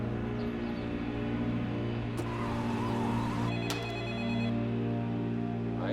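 A telephone rings in a kidnapping case as another call comes in. Electronic ringtone bursts sound over a low, steady hum with tense background music.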